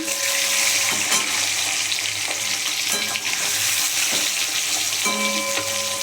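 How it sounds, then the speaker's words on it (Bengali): A duck egg fries in a pan with a steady, loud sizzle and crackle of hot oil, with occasional scraping stirs across the pan and no talking. "ডিমটা আমার ভাজা হয়ে গেছে ডিমটাকে এবার আমি তুলে নেবো"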